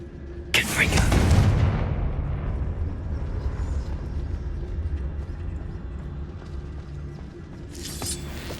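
A Confringo fire spell explodes in the game Hogwarts Legacy inside a closed mine that resembles a tomb, with a loud sudden boom that decays into a long rumbling tail, followed by a brief crackle near the end.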